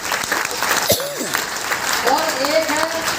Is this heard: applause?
yes